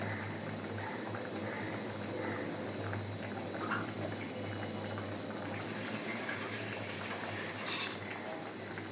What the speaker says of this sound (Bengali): আর কিছুটা পানি অ্যাড করব।